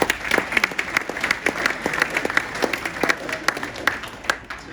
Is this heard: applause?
yes